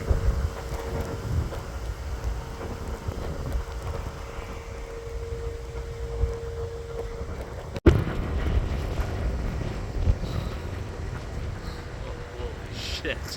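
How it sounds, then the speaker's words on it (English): Strong wind gusting during a lake effect snowstorm with blowing snow, a steady broad roar buffeting the microphone throughout, with a brief dropout midway before the rushing continues. "big gust coming through."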